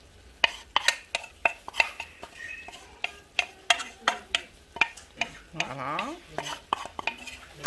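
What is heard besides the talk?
stirring jambalaya in a pot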